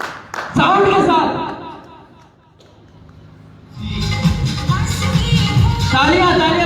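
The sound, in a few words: audience clapping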